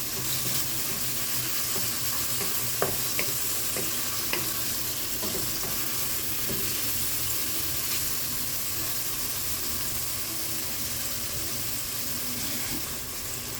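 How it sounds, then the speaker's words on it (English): Vegetables for Jamaican steamed cabbage sauteing in a pot, a steady close sizzle and frying hiss with light stirring clicks and scrapes throughout, no talking. "You're just gonna saute them just a little to bring out the flavor."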